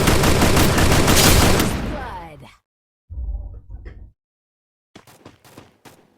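Sustained loud bursts of automatic gunfire in the battle royale game Free Fire, fading out, then a shorter burst and a few scattered shots further off.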